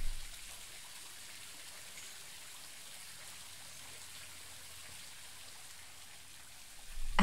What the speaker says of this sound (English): you notice the sound of falling water growing louder